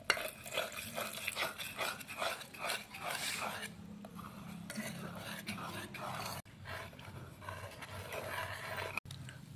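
A spoon stirs cake batter of crushed biscuits and milk in a bowl, a rhythmic scraping pulse repeating for several seconds and then easing off, faint and close, with a voice talking over it.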